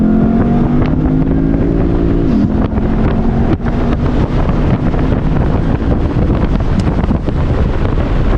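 A Lexus IS F accelerates hard, its engine droning loudly with a rising tone that drops at a gear change, heavily buffeted by wind noise throughout.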